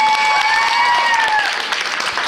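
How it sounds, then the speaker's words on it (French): A crowd at a regional dance competition selection in Brittany breaks into loud, dense applause for dancers Manon and Alicia, a thick roar of clapping with faint music tones underneath. "Je vous demande de faire un tonnerre d'applaudissements pour Manon et Alicia"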